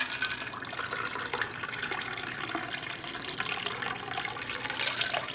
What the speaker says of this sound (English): Now, we're going to pour it